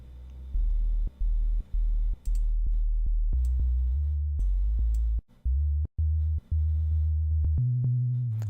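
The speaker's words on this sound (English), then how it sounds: "So I'm gonna use the E flute sub bass for this one." An E flute sub bass from FL Studio Mobile plays a deep, smooth sine-like bassline of sustained low notes that step in pitch, each separated by brief clicky gaps, heard alone without any talking.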